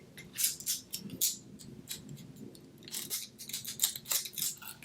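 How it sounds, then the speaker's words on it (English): Scissors snip through sheer, lace-like sparkle paper while holiday gift tags are being made, a close series of quick crisp cuts, faint and with no talk. "I'm using the wrong scissors for that."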